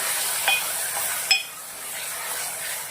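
Moong beans stirred in a frying pan: a steady sizzling hiss with a few sharp spoon scrapes and clinks against the pan spaced through the clip, and no talking.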